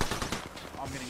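Rapid gunfire from the battle royale shooter Apex Legends, a fast burst of repeated shots close by, with a voice faintly mixed in.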